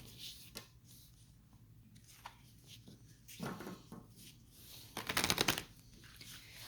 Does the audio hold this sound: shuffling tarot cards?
yes